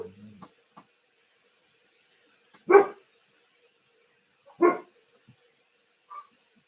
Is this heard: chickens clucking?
no